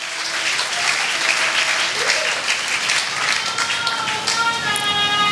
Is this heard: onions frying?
no